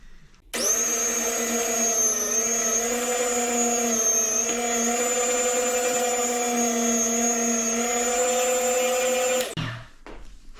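An electric meat slicer cutting lunchmeat runs with a steady high motor whine for about nine seconds, then winds down and stops.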